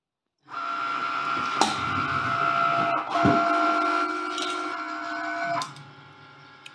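A Cricut cutting machine slicing Sport Flex vinyl on a Strong Grip mat: a steady mechanical whir with sharp clicks and shifts in pitch as the carriage moves, close and continuous for several seconds before stopping.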